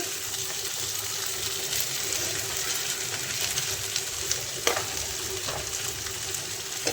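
Rice and peas fry in a pan while a ladle stirs them, a dense steady hiss of sizzling with occasional sharp scrapes and knocks, close and continuous.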